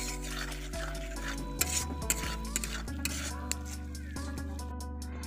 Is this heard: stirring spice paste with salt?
yes